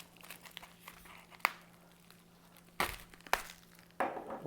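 Trading card packaging is torn and crinkled open in several sharp bursts separated by quieter rustling, close and fairly soft, with a low steady hum underneath.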